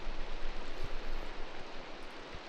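Steady rain hisses as an even, broadband wash in modded Minecraft, faint and unbroken across the short stretch with no voices.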